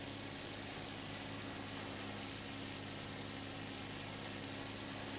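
A propeller airplane engine drones steadily in flight in the IL-2 combat flight simulator game, a constant, even roar with no talk over it.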